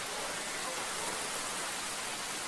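Steady rain falls as a dense, even hiss with no break, faint and distant in a dramatized scene about the prophet Yusuf, with no voices over it.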